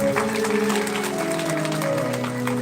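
An audience claps at a Shiv Mahapuran religious gathering in Raver, a steady rush of applause under sustained harmonium-like music.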